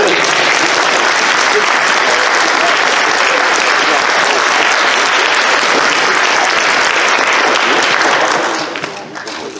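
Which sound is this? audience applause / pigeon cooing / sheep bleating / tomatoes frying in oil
audience applause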